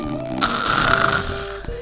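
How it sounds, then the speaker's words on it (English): A man snores in one long, rumbling drawn breath, close and steady, with no talking. "begins to snore."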